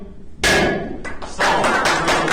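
Sharp wooden knocks, an auctioneer's gavel striking several times in quick succession at a sale, loud and close in a room.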